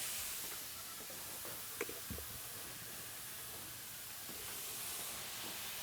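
Chopped onions sauté in a pan for Ethiopian Bozena shiro, giving a steady, soft, hissing sizzle throughout, with a couple of faint clinks and light stirring touches.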